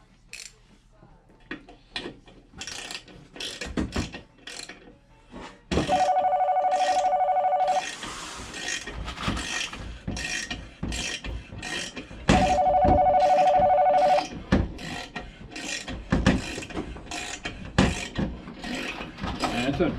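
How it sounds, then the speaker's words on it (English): Telephones ringing in a busy transmission shop: two long electronic ring bursts sound a few seconds apart amid clattering tools, metal knocks and shop noise, with people talking nearby. "phones have been going nuts today"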